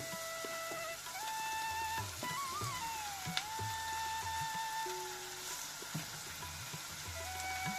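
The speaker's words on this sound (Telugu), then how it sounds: "ఆయిల్ వేడెక్కిందండి, ఉల్లిపాయ ముక్కలు వేసుకున్నాము" Onion and green chilli pieces sizzling in hot oil for an Andhra-style raw plantain curry, a steady close crackling fry with faint tonal background noises over it.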